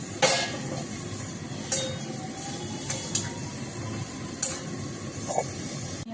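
Meat dropped into a pan of spices that have been fried down, giving a steady close sizzle with a few sharper spits and crackles.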